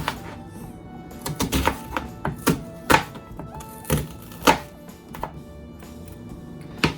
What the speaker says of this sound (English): and then I'm just gonna slice it